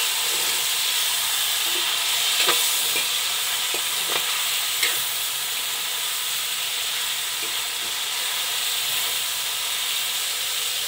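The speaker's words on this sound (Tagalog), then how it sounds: "Hayaan lang natin siya mapiritong konti." Pork steak frying in a pan for a Sunday meal, a steady loud sizzle and hiss with occasional sharp crackles and pops, no voices.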